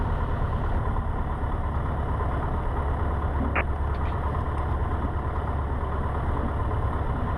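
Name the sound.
Cessna 150 engine idling before run-up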